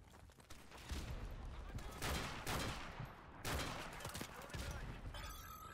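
Sniper shots in Call of Duty Black Ops 2, three loud broadband blasts about a second apart, each with a ringing tail, over a low background rumble.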